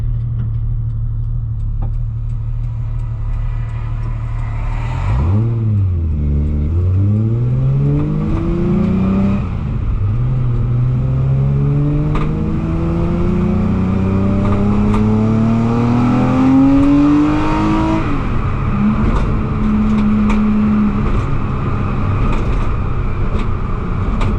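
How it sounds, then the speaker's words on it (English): Subaru Impreza with a swapped EZ30R flat-six, driven with steady engine drone that rises and falls through several revving climbs and gear changes, loud and close throughout with no talking. "Working, running EZ30R swap."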